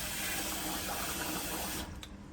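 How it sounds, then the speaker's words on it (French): Rice is rinsed under running water, a dense steady splashing and rushing that fills the clip and tapers off abruptly near the end. "il faut rincer son riz. Un riz, ça se rince plusieurs fois."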